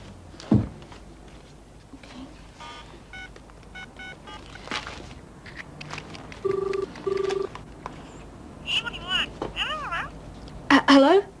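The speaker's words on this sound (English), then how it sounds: "Try again now on Joe's portable phone." A portable cordless telephone being dialed, several short electronic keypad tones in separate bursts, followed by ringing warbles, with scattered thumps and background noise in between.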